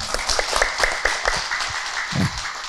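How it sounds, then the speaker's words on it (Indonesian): Studio audience on a religious talk show clapping for Ibu Vika, a brief burst of fairly loud, rapid applause with a few distinct claps standing out. "Tepuk tangan buat Ibu Vika."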